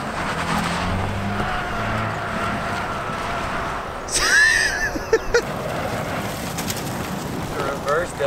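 A Chevrolet Malibu, front-wheel drive, spins reverse donuts, its engine droning steadily amid wind noise with a brief tire squeal rising midway, heard from a short distance.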